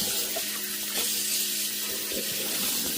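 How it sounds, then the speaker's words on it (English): A kitchen tap runs warm water into a container in a steady, close stream, with the gurgle shifting slightly as it fills. "Fill this up with just regular, not hot water"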